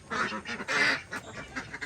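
Ducks quack in short nasal bursts, several calls overlapping, close by and fairly quiet.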